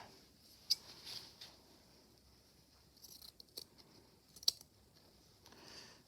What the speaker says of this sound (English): Let's cut a little piece of that off.